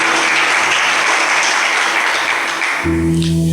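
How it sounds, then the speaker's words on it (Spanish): Steady, loud applause fills a church during a sermon, a dense unbroken wash of clapping from the congregation that holds for several seconds before a low musical tone comes in near the end. "Denle ese aplauso al Rey de Gloria."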